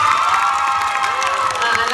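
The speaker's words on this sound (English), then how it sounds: "I give you a big applause." An audience at a televised talent show quarter-final cheers and shouts loudly, with high excited voices whooping throughout a short, dense burst of crowd noise.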